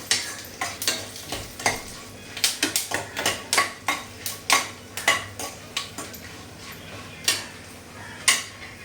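Peppercorns and spices fry and get stirred in a pan for a Mangalore-style mutton masala, with a steady sizzle under quick, sharp metallic scrapes and clinks of a spoon against the pan, close and without talk.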